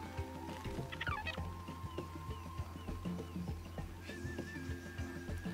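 A bird in the Snake Pass video game gives a warbling, gobbling call over a busy, rhythmic game soundscape with repeated plucked and tapping tones, loudest early on and then fading into the background.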